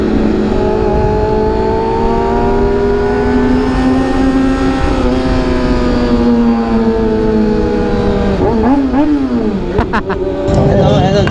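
A motorcycle engine revs hard and steadily, its pitch holding high before swooping down and back up near the end, loud and close, with people talking over it.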